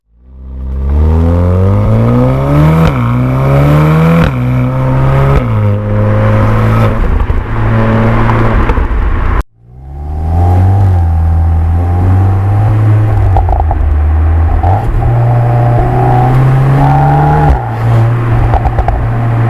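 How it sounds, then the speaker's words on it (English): A VW Golf R 7.5 with a Power Valve resonator delete kit that removes one silencer, its exhaust loud and close, revving repeatedly in rising, falling sweeps, with a brief cut partway through before the engine climbs again. "it's had a resonator delete kit fitted, made by Power Valve, and it takes one silencer out and gives it a nicer tone"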